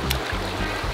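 Cold, clear water runs steadily through a small creek in a river setting, a continuous broadband rush with a faint trickle, no voices over it.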